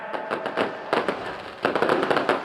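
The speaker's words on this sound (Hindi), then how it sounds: "ये देखिए, आतिशबाजी का बहुत ही खूबसूरत नज़ारा आप यहाँ पर देख रहे हैं।" Fireworks at an outdoor Dussehra Ravan Dahan fair in Pali, Rajasthan, crackle and pop in rapid irregular bursts, loud and dense, with crowd noise beneath.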